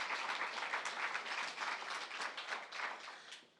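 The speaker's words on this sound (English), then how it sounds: "we just give them a round of applause for pulling everyone together and pulling this off" Audience applause after a panel discussion on building a trustworthy future web: a fairly faint, steady wash of many hands clapping for a few seconds, tapering off at the end.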